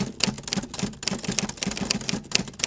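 Rapid, steady keyboard typing with dense, clattering keystrokes, loud and close throughout, alone without any voices.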